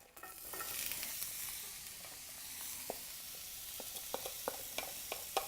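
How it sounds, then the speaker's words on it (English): Onions frying in a pan after roasted chicken, a soft steady sizzle rising at the start, then punctuated by a series of crisp pops and spatters toward the end, quiet and close with no speech. "And now we're going to add our onions."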